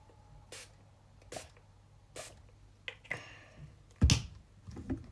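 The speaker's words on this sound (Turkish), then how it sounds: "ilk olarak spreyimi sıkıyorum yüzüm için" Face mist is sprayed from a pump bottle as a short series of separate airy hisses, close and quiet in a calm indoor setting, followed by a louder bump near the end.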